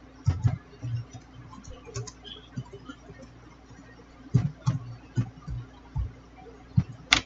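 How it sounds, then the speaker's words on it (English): Keys clatter on a computer keyboard in quick irregular bursts of typing, close and fairly quiet, with pauses between runs and a faint background hum. "let's go ahead and type an office background"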